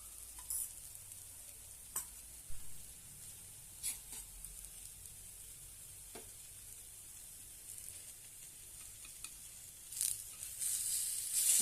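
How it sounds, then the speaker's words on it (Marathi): Mixed sprout appe roast in a little oil in an appe pan with a faint, soft sizzle. Occasional light taps and scrapes recur every couple of seconds, and the sizzle swells slightly toward the end. "थोडंसं वरून तेल सोडूया आणि छानपैकी खरपूस असे भाजून घेऊया"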